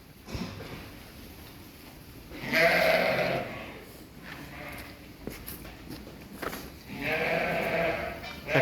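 Sheep bleating in two loud bursts, one near the start of the clip and another toward the end, with quieter farmyard shuffling in between and no voices.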